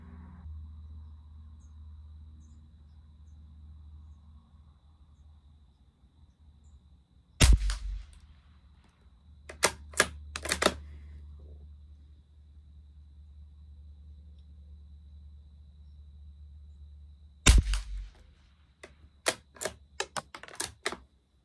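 Rifle shots fired at a target while zeroing a night-vision scope: two sharp, loud cracks about ten seconds apart, each followed by a few clattering mechanical clicks over a low steady engine-like rumble.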